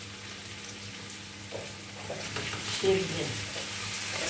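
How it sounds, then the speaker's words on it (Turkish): Potatoes frying in a pan with a little oil for a breakfast of fried potatoes with eggs, a quiet, steady sizzle with light crackles that swells slightly midway, close by, while someone says a word over it. "patatesimi tavaya koydum arkadaşlar. Güzelce kızaracak."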